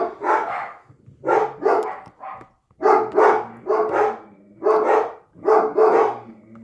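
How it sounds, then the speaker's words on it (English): Several dogs barking at meal time indoors, loud and close, in repeated short bursts of two or three barks separated by brief pauses, with no one talking. "Pardon the dogs, it's meal time."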